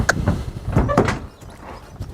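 A Fautras horse trailer door clunks and rattles open with a couple of metallic knocks and a scrape, close by, then settles into quiet.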